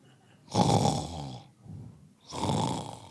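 A man imitates snoring with his voice, giving two long, loud rasping snores separated by a shorter, quieter breath, all near and with no other sound.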